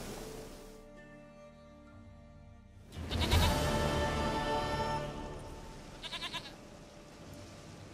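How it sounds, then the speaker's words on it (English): A goat in The Witcher 3: Wild Hunt gives out loud bleats over the game's ambient background, one long cry followed by a quick, wavering run of shorter bleats. "Goat of mine, dearest, sweetest goat."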